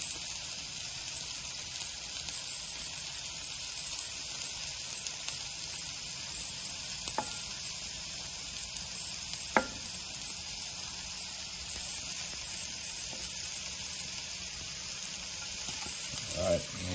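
Burger buns and bacon sizzle steadily on a hot griddle, a constant close frying hiss with a few faint clicks and scrapes, no talking.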